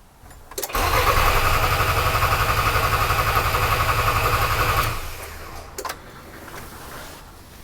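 An old prototype mail truck's diesel engine, its injector lines holding air, cranks briefly and then catches, running loud and steady with a chugging rumble for about four seconds before shutting off, followed by a couple of faint clunks.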